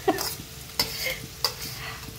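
Onions frying in hot oil in a kadai give a steady sizzle, with sharp scrape-and-stir clatters landing at irregular intervals close by, and no talking.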